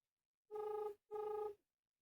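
An outgoing phone call rings back with two even, buzzing tones, each lasting about half a second and separated by a short gap, heard clearly with no talk.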